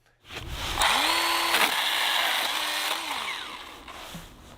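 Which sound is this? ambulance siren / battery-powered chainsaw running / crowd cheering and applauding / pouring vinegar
battery-powered chainsaw running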